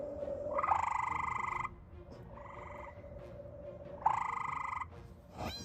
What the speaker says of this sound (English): using the aid of frog sounds to try to lure him in.